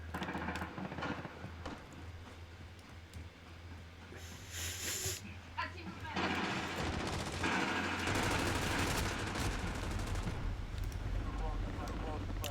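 Rifle gunfire in a video game crackles in rapid bursts, with sharp repeated shots mixed with hissing effects and a steady low hum, while a person talks intermittently.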